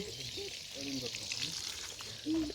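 Masala-coated fish fries in a pan outdoors, a soft, steady sizzling hiss running beneath people talking nearby.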